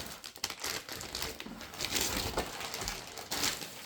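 Plastic packaging around a Royal Enfield rider jacket crinkles and rustles up close as it is opened, with continuous crackling handling and a few sharper crumples, no voices.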